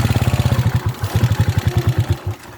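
A gasoline motorcycle engine chugs nearby in a fast, regular low-pitched putter, loud and steady with slight unevenness toward the end.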